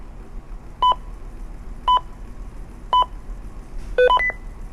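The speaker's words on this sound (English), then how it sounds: "the radio beeps back that it's 2211" A series of short electronic beeps from a Ritron JMX portable two-way radio, evenly spaced about a second apart, ending with a quick double tone over faint background hiss.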